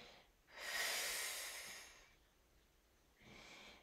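Breathing during ab curls in an exercise class. A long, forceful exhale rushes out close to the mic, a quieter inhale follows, and a second breath starts near the end, all soft and without talk.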